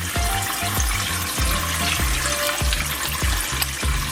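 Lane snapper fish is rinsed under running water with lime juice and vinegar, giving steady close splashing and trickling with repeated soft knocks and sloshes as the fish is handled.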